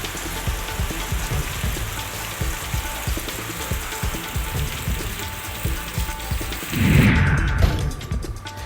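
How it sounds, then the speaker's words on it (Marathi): Unseasonal rain falling in the evening in Nashik district, Maharashtra, a steady broadband patter of drops hitting surfaces throughout, with a louder splashing burst near the end and no voices. "नाशिकमध्ये अवकाळी पावसानं हजेरी लावली आहे"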